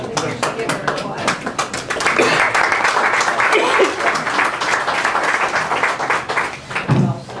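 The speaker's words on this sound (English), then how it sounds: "Give her a clap." An audience at a commission meeting claps continuously and briskly from nearby, and a voice speaks over the applause.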